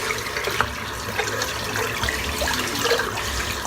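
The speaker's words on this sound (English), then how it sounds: "let's just rinse this soap out." Running water from a tap splashes steadily as shaving soap is rinsed out of a tie-dye shaving brush at a sink, a continuous close, moderately loud wash with no speech.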